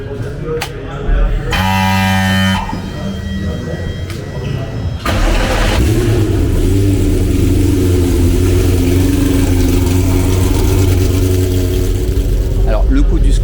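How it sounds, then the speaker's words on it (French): A Porsche GT3 Cup race car at the Circuit du Castellet cranks briefly, then fires up and settles into a loud, rough, close idle that holds steady, with occasional voices nearby. "là on va faire chauffer la voiture"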